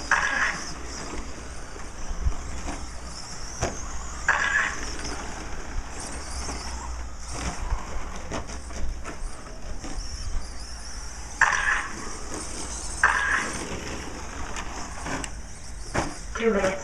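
Stock 2wd short course RC trucks race around a track, their small motors whirring and buzzing steadily under a race announcer's commentary across the whole stretch.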